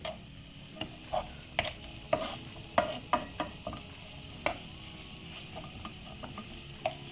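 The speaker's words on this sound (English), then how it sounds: "So you can see the leek sizzling nicely over here." Leek sizzles in a pan with scattered crackles and pops, fairly close and a little quiet, and no one speaks.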